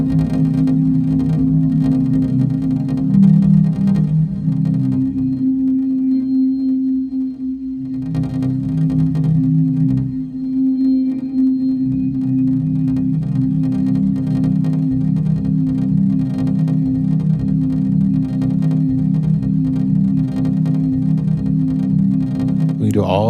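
A sample scrubbed with the start knob under modulation on a Torso S-4 sampler gives a sustained, droning processed texture with a steady pitched hum. It shifts gently and briefly dips midway, with some distortion and chorus-like coloring throughout.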